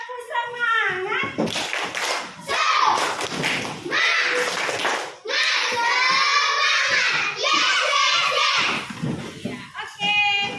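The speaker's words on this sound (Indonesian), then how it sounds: "coba yuk kita tepuk semangat" Children perform the tepuk semangat clapping chant in a classroom, loud rhythmic bursts of hand claps mixed with chanted voices that run almost without pause, with a few brief gaps between phrases.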